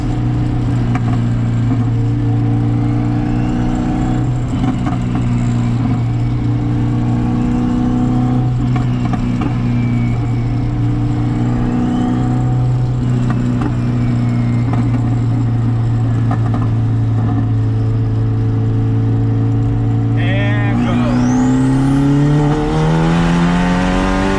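Car engine held at steady revs for a tuning pull on a boosted red hatchback, then climbing sharply in pitch near the end as it revs hard, loud and close, with no talking.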